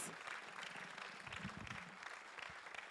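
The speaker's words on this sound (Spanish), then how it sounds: "Give her a round of applause." Steady applause from a church congregation, continuous clapping filling the space for a few seconds at an even, sustained level.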